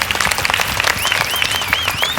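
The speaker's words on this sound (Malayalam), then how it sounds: "നമ്മുടെ എല്ലാ ഗ്രൂമേഴ്സിനും ഒരു സ്പെഷ്യൽ കൈയടി അർഹിക്കുന്നുണ്ട്" An audience at a comedy show applauds the groomers, steady dense clapping throughout, loud and close, with a shrill whistle or squeal rising over the clapping partway through.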